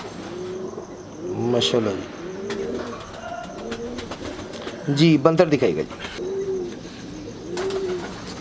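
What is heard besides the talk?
pigeons cooing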